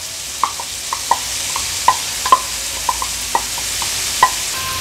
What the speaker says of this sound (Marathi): आता हा बारीक चिरलेला मुळा आहे तो ॲड करणार आहोत।